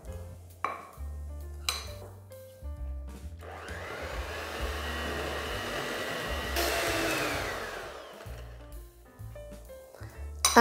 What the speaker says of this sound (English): Now we're going to mix this the last time for about 3 to 4 minutes so that the butter and icing sugar is nice and smooth.